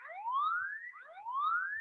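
Phone anti-theft app sounding its remote siren alarm, repeated rising electronic wails, two sweeps in quick succession, moderately loud and alone.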